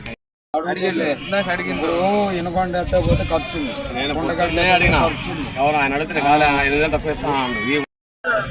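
Sheep and goats bleat repeatedly at a busy livestock market in Kanigiri, Prakasam district, Andhra Pradesh, with loud, wavering calls filling the clip, overlapping one another and the crowd's voices.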